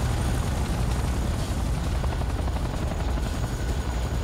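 Helicopter lifting off in the video game Command & Conquer Renegade, a continuous loud rotor chop over a heavy engine roar, close and sustained throughout.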